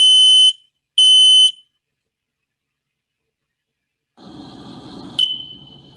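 Two loud, piercing electronic chirps from a smoke alarm, evenly spaced, followed after a pause by softer rustling and a brief high beep.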